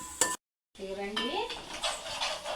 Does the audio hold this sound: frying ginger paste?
yes